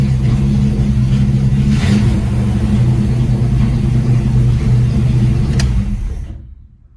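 A Chrysler 318 V8 idling and revving loudly up close, a steady throaty rumble with smooth swells and no backfire pops, cutting off abruptly near the end.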